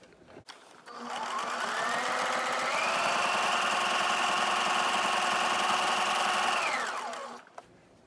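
A sewing machine zigzag-stitches around the edges of appliqué designs on a ribbon skirt, a steady close whirring run of about six seconds that starts and stops cleanly with no talking.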